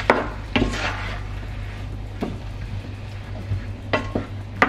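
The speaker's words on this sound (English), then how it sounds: "our lovely tomatoes is gonna be together with garlic and the onion. I'm gonna stir a little bit." Tomatoes, garlic and onion being stirred in a cooking pot, giving a low, steady background with a few soft scraping and clinking strokes of the spoon scattered through, no talk.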